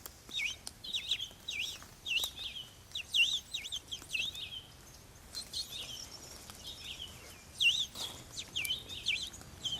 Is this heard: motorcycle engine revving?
no